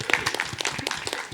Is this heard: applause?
yes